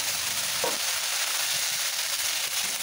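Onion, garlic paste and green and red chillies fry in a little oil as a tempering for spinach, giving a steady, close sizzle with a soft stir-like rustle near the start and no talking.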